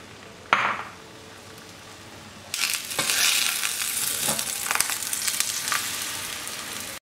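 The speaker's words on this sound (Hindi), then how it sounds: "ऑमलेट फ्राई करूंगी।" Omelette frying in a tablespoon of hot oil in a pan, a sudden sizzle bursting up loud and steady after a brief clatter, continuing with crackling hiss and occasional utensil taps.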